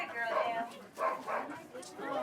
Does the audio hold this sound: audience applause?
no